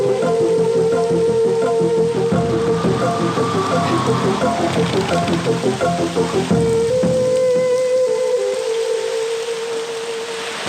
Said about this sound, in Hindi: इतनी बारिश में? बहुत जोर से हो रही है सर।